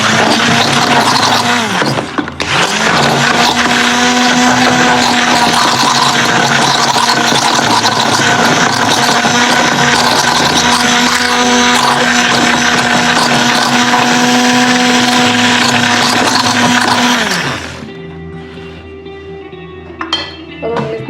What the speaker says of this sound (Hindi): अब ब्लेंडर से भी कर सकते हो।